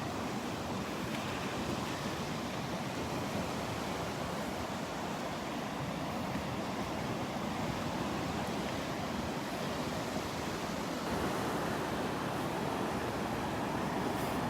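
Ocean waves surge onto a beach at high tide at Delnor-Wiggins, a constant, washing roar mixed with wind buffeting the microphone, steady throughout with a slight swell later on.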